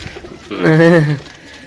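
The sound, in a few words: pigeons cooing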